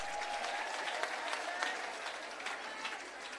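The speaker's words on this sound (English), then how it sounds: "Give him another round of applause" A seated audience at a civil service long service awards ceremony in Jamaica gives a sustained round of applause, a steady wash of clapping with a few louder individual claps poking through.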